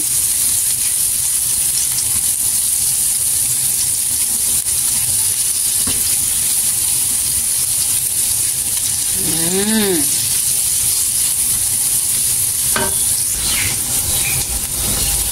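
Onions, ginger and garlic sauté in a wok for beef hor fun, making a constant loud hiss of frying with a few brief utensil clinks and squeaks partway through.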